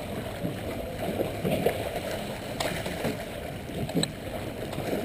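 Oars of a rowing boat crewed in pairs work through water with soft rhythmic splashes and swishes over a steady wash of outdoor ambience, fairly faint and close.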